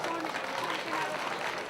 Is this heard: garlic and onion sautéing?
no